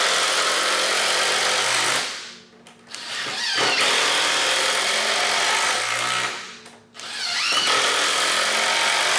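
Makita XDT15 and DeWalt DCD809 compact impact drivers driving long 5/16 self-tapping screws into hard wood, loud continuous buzzing hammering close by, dropping out briefly twice between screws.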